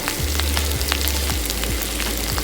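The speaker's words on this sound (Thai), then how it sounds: "ทีนี้ก็ผัดหนู ผัดเผ็ดหนูใส่หน่อไม้ดองนะครับผม" Field rat being stir-fried with pickled bamboo shoots and spicy curry paste in a wok: a steady, loud, close sizzle with rhythmic scrapes of stirring every half second or so, and no voices.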